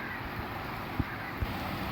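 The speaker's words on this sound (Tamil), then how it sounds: "எந்த அளவுக்கு மழை பெய்யுதுன்றத பாருங்க. சத்தம் நல்லாவே வந்து கேட்குது." Heavy rain heard through an open window makes a steady, dense hiss with no letup, broken by two faint low thumps partway through.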